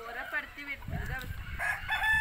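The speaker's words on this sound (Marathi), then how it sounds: "असा आहे मित्रांनो पाठी लागणारा कोंबडा" A rooster that chases children and strangers crows in a short, strained call over steady outdoor background noise, fairly close.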